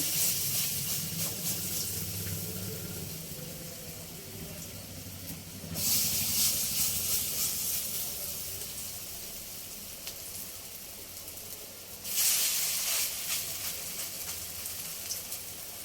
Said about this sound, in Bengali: তেল গরম হয়ে গেছে, এবারে বড়াগুলো ভেজে নেব।